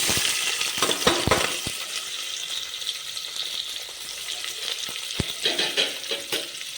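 Onions sizzling in hot oil with cumin and bay leaf in a pan for pulao, a steady hiss with sharp clicks and scrapes of stirring, close by and no talking.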